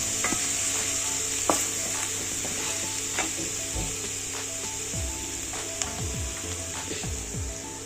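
Ground groundnut paste hits hot tempering oil for a green-bean amti, sizzling steadily while a spoon stirs and clinks against the pan in irregular scrapes and taps, close and continuous.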